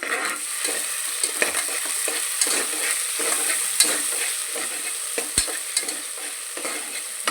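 Ginger and shallot paste stir-fried with onions in a pan for sweet corn pulao, giving a steady close sizzle broken by repeated scraping clicks of the spoon throughout, with no voices.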